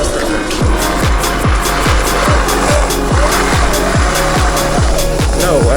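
A homemade drift kart revs hard through city streets, its loud buzzing small engine pulsing in a steady rapid rhythm close by, with a faint tire squeal and no talking.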